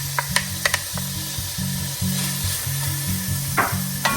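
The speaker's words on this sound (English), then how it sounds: "Go ahead and add the jalapeno, the diced, finely diced jalapeno," Finely diced, seeded jalapeno sizzles steadily in a hot pan, a continuous close frying hiss with a few light clicks and a low rhythmic hum underneath, no voices.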